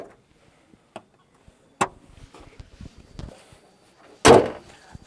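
Door of a Suzuki Jimny 5-door SUV shuts with a loud, close thump near the end, preceded by a few faint clicks and small handling noises, with no talking.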